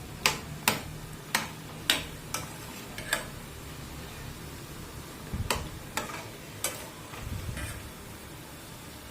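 Gulab jamun fry in hot oil with a soft steady sizzle, broken by sharp ticking taps of a utensil against the pan at irregular intervals, close and moderately quiet with no talking.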